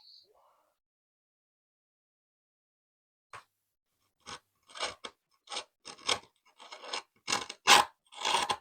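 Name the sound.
trimming skateboard grip tape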